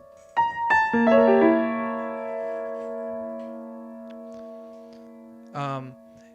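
A piano chord is struck, its notes rolled quickly upward and left ringing as it fades, then a short final note near the end.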